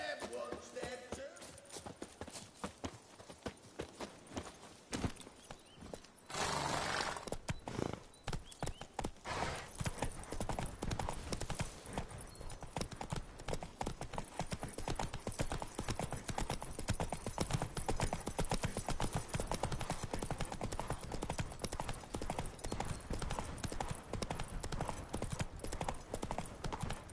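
Horse hooves clip-clopping as a rider travels in the video game The Witcher 3, a fast continuous rhythmic patter of hoofbeats with faint game ambience underneath, steady for the whole stretch.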